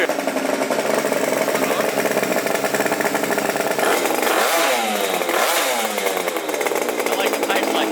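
Scooter engine with aftermarket exhaust pipes revving loud and close, a steady buzzing drone that climbs in pitch twice in quick rising sweeps near the end, with people talking underneath.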